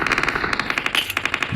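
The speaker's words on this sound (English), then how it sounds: "Gunshots everywhere, but who's shooting?" Rapid bursts of gunfire rattle out in quick, evenly spaced shots, like a machine gun firing in short strings, fairly loud and close with no voices, in a war setting at Pokrovsk.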